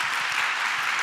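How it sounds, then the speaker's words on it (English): Audience applause on the main stage of a nuclear ban forum, a brief wash of many hands clapping at once, loud and even throughout the short stretch. "Can we give an applause to the President?"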